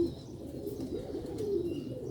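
Sialkoti pigeons, a roof-flying breed, give soft low cooing in a steady murmur close by, with no speech over it.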